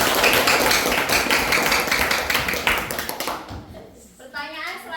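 A classroom group of students clapping together for about three seconds, loud and close, before the clapping fades and voices speak.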